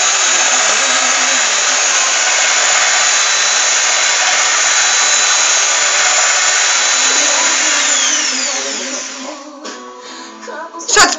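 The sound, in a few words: power drill whipping cream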